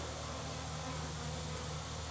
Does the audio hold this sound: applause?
no